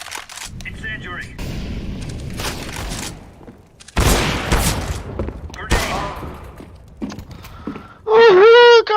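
Loud bursts of gunfire and impacts in Counter-Strike, with repeated sharp shots and booms in rapid clusters and a shrill tonal effect near the end, heard under excited talk from players.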